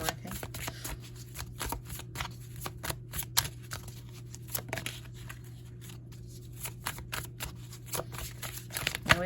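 Tarot cards riffle and snap in rapid, steady shuffling close by, a quiet continuous flutter of crisp card edges with occasional sharper slaps as cards are pulled, over a faint steady hum.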